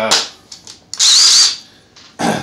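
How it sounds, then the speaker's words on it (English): A Ridgid impact driver sinks 3-inch coated deck screws in short bursts, then one long, loud sustained run of rapid hammering, with brief pauses and a final burst starting near the end. "I'm going to go ahead and start off with the Ridgid impact driver and just drive a few of these"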